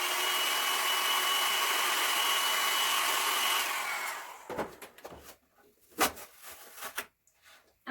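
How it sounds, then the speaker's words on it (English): A steady hair dryer whooshes loudly for about four seconds, then switches off, leaving soft scattered handling sounds. "so I'm going to use my hair dryer again."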